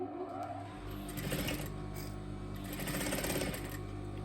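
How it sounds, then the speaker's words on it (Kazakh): A sewing machine stitches the corners of a patchwork piece in two steady rapid runs, its needle chatter close and even, with a short pause between the runs. "Ортадағы 4 бұрыштың бір шетін тігіп аламыз."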